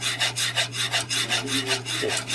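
A whisk working turkey gravy in a pan, giving a steady, loud, rhythmic scraping swish that repeats about every quarter second, close by.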